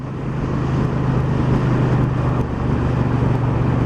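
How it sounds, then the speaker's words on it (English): A 2018 Triumph Bonneville Bobber motorcycle runs smoothly under way, a steady low engine drone with constant wind rush, loud and continuous, no talk. "Quite a smooth engine, I have to say. Very grunty low down."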